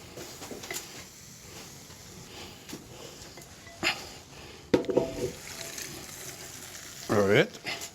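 Cooked black beans tipped into a big chili pot frying with cumin and pepper, giving a soft sizzle with a few wet slides and knocks. Close and modest in level, with a thicker scrape near the end.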